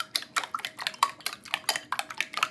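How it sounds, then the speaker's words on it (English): Eggs beaten with a whisk in a bowl for raisin bread roll dough, a quick irregular run of light metallic clinks and taps against the bowl, close and moderately loud with no talking. "I'm gonna give it a good whisk before we mix"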